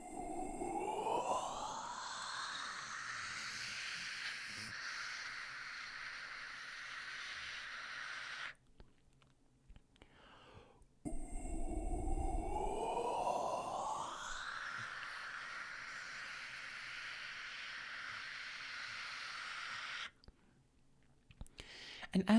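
Two whispered vocal sirens, breathy voice sliding upward from an oo to an ah vowel, each a long airy sweep separated by a brief pause, close and soft.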